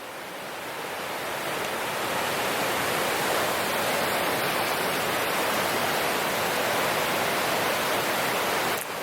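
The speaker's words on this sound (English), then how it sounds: "Waterfall from our campsite." A waterfall roars steadily near a campsite under big trees in the mountains, a broad, constant rushing wash of water with no pauses.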